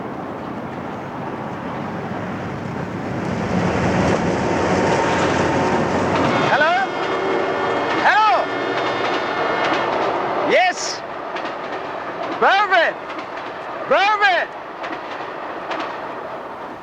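A train running on rails gives a loud continuous rumble with rhythmic clatter, while people shout and talk over it.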